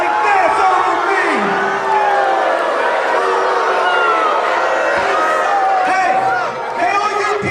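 A crowd in a Gainesville wrestling arena cheers, whoops and yells continuously, loud and close, a dense, sustained roar with individual shouts rising above it.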